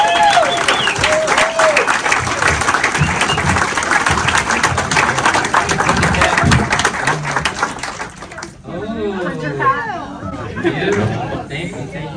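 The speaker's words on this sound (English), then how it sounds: "everybody let's stand and give Lindsay a big round of applause" Audience applause with crowd chatter at a Rotary club meeting, dense and loud for about eight seconds, then fading as people talk over scattered claps.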